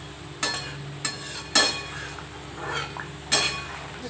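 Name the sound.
adding boras (fritters) into the cooking pot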